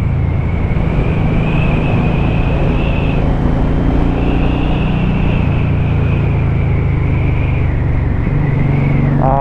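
A Suzuki M1800R Boss cruiser motorcycle roars continuously while being ridden in fine weather, its deep engine note and wind noise loud and close throughout, with gear changes shifting the pitch and no talking.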